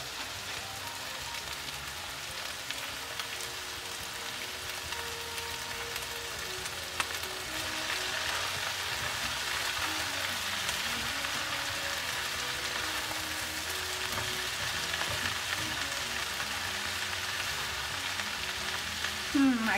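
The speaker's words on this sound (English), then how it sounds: "Just stir fry it, basically." Chives stir-fry in a pan on the stove, a continuous close sizzle and crackle with faint stirring that grows slightly louder partway through and stays steady with no talking.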